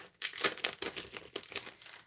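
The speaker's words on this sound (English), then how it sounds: "Excuse the noise of opening the pack." A pack of self-sealing vellum paper sheets being opened, with close, fairly quiet crinkling and rustling of the envelope in irregular bursts.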